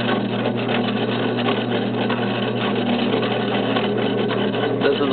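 A Federal Signal 3T22 tornado siren driven by a solenoid flasher runs a very fast high-low signal, a loud continuous mechanical drone with rapid steady alternating pulses, close and without pause.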